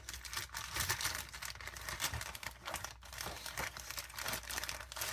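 Crinkly plastic bag holding chrome parts from an AMT T model kit is pulled open and handled up close, giving steady soft crackling and rustling with small crunches and no talking.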